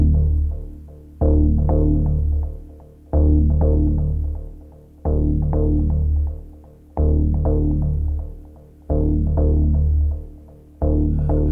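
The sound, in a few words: low synthesizer note sequence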